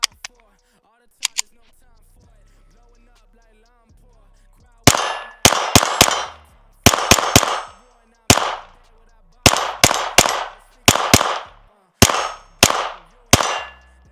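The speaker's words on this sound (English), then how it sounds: "Always fun to shoot 22." A .22 pistol fired at the range on eclipse day, a series of sharp shots in quick clusters, each followed by a ringing metallic clang from steel targets, after a few quiet handling clicks at the start.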